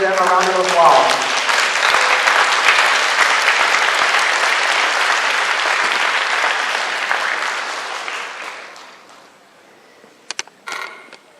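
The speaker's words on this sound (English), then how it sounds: "let the audience give them a round of applause" A gala audience applauds staff and volunteers with a loud, dense round of clapping that holds steady for several seconds, then fades out, followed by a few scattered late claps and small knocks; a voice is briefly heard at the start.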